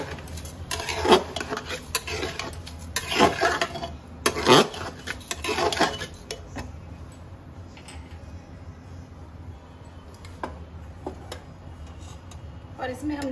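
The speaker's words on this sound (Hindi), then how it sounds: "और इसको अच्छे से मिक्स करेंगे।" Rice with spices being stirred in a pot, with bursts of scraping and clinking against the metal in the first half, followed by quieter stirring, all close by.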